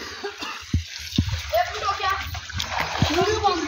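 Water splashing as people bathe in a solar-powered pond, close irregular splashes mixed with excited voices and children's chatter.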